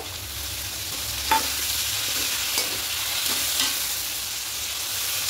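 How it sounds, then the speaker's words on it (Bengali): Masala paste for dudh shukto frying in a pan, a steady sizzle and hiss with a few scraping stirs against the pan, close and moderately loud. "দিয়ে খুব ভালো করে নাড়াচাড়া করে একটু কষিয়ে নেব"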